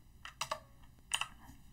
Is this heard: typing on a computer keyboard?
yes